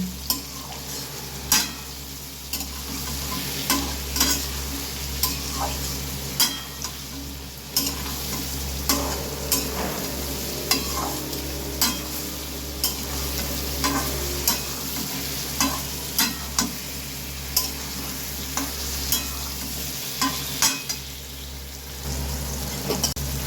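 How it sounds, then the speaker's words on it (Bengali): Dried chili powder, turmeric, salt and sugar fry in oil in a pan for a hilsa fish-head curry, with a steady sizzle under regular scraping stirs and light clinks of the spoon against the pan. "সব কিছু ভালো করে ভেজে নিচ্ছি।"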